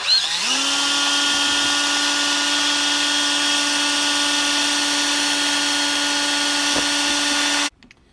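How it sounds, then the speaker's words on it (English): A power drill in high range, used as a paint mixer, spins up and runs at a steady high whine for several seconds, then cuts off abruptly near the end. "take my drill, put the drill up in high range"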